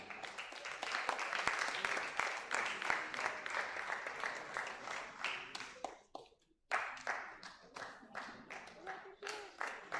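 An audience at a Lagos business and policy summit applauds a speaker with sustained, fairly loud clapping from many hands, a brief drop near the middle, then renewed clapping, with some voices mixed in.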